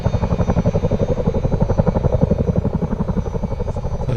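Chinook helicopter in Microsoft Flight Simulator, its twin rotors beating a steady, rapid, loud thump with a continuous engine drone underneath, near and unbroken throughout.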